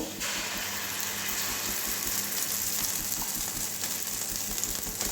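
Batter for a potato paratha hits a hot pan on low heat, giving a continuous, even sizzle and hiss heard up close with no talking.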